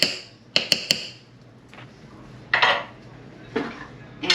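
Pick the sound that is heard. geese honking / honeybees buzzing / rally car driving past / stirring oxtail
stirring oxtail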